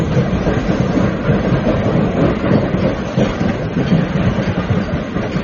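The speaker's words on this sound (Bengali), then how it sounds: "দেখতে দেখতে ট্রেনের গতি মন্থর হয়ে এলো।" A train rumbles along the tracks in a loud, continuous roar with a rough rhythmic clatter, heard from close by, without voices.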